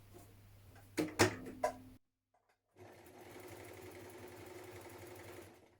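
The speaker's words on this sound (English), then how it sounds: "Now we're going to create our buttonholes and attach our buttons." A sewing machine stitches buttonholes on a shirtdress, starting with a few short, loud bursts of stitching, then a pause, then a long, steady run of rapid stitching.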